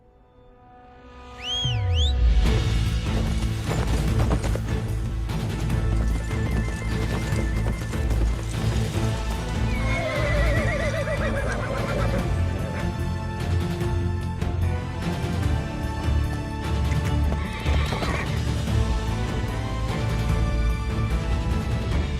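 A horse neighs sharply at the start, then steady clip-clopping hooves run under a loud, continuous dramatic music score in an action film scene.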